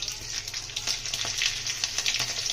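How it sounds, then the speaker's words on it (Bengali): Green chilies and black cumin seeds hit hot oil in a kadai for tempering, giving a steady close crackling sizzle with small popping spatters, no voices. "কাঁচা লঙ্কা আর কালো জিরেটা ফোড়নে দিয়ে দেবো"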